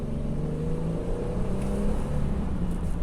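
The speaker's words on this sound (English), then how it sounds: "because of the engine. Now, listen to this growl." A deep, steady Mercedes-Benz W212 E350 V6 engine rumble with a low, throaty growl, holding a constant idle-like drone throughout with a slight swell midway.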